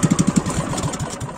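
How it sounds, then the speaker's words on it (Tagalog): A small boat motor on Laguna Lake, running poorly, putters nearby with a quick run of low thumping pulses that settles into a rougher, uneven chug. "Medyo hindi maganda ngayon ang takbo ng motor ko ah"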